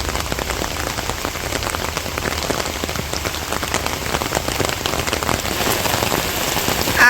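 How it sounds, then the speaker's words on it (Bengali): Rain falls steadily on a village rooftop on a cool day, a dense, even patter of drops hitting the surface with no voices. "সারাদিন বৃষ্টি নামে"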